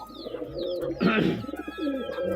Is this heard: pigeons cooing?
yes